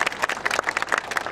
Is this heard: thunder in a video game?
no